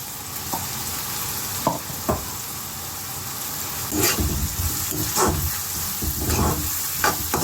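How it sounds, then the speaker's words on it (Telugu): Chopped onion and green chilies sizzle in a hot frying pan with a steady hiss, broken by a few louder stirring scrapes and crackles, close up and with no talk. "ఇప్పుడు కోసి పెట్టుకున్న పచ్చిమిరపకాయ ముక్కలు వేస్తున్నాను."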